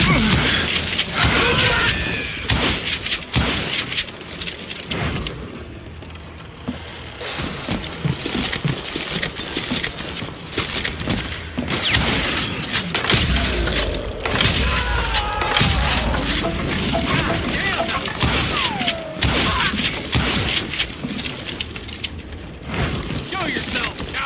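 Dynamite blasts and gunfire in the Call of Juarez Gunslinger video game ring out loud and dense, with booms, mechanical clatter and repeated sharp shots filling the whole stretch, mixed with voices.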